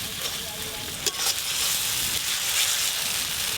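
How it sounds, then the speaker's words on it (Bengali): Spice masala sizzles steadily in a pan with a little water added, being stirred while cooking for a rohu fish and cauliflower curry; a continuous, close, loud hiss with small stirring scrapes and no pauses. "অল্প একটু জল দিয়ে মশলাটা আর একটু ভালো করে কষবো।"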